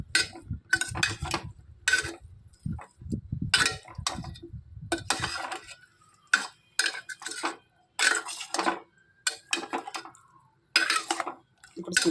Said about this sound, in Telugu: ఇప్పుడు దీన్ని కొంచెం కలిపేసి